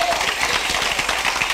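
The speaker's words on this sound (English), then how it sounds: "I need you to clap your hands, not just for you, but for the person that's still struggling with their belief right now." A church congregation claps and applauds during a sermon, a dense burst of many hands clapping at close range, loud and continuous, with voices mixed into the applause.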